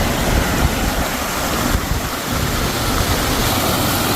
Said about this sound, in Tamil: இந்த தண்ணி ஓடுறத பார்த்தாலே அப்படியே ஒரு மாதிரி இருக்கு.